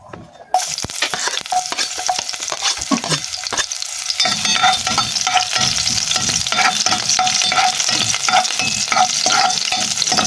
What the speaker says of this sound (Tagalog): Yan natin pong igisa.